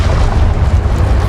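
A fire spell cast in the Hogwarts Legacy video game bursts out as a loud, sustained roaring rumble with heavy low-end boom, continuous through the whole moment.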